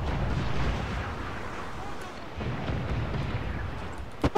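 Heavy ship cannon fire from the Jackdaw in Assassin's Creed Black Flag, a dense rumbling barrage of booms that stays loud throughout, with sharp pops near the end.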